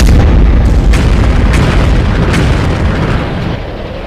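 A warship's guns fire during a film scene at sea, heard as a series of loud, booming blasts with sharp cracks over a rumbling low roar that slowly fades.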